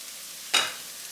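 Shrimp hit a hot pan for frying, giving one sudden close sizzle burst that flares loud and then fades back into a quiet kitchen background, with no voices.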